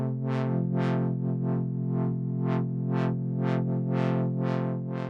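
Sustained distorted synthesizer tone swept by a random LFO with glide, about a dozen smooth, sine-shaped rising and falling filter swells in an irregular rhythm, loud and continuous.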